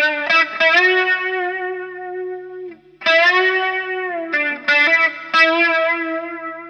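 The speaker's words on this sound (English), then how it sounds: "we're gonna do a little vibrato and we're gonna wait a little while we do so" An electric guitar plays sustained distorted notes from a guitar solo with vibrato, each note ringing out and fading before the next picks in, clean of any talk.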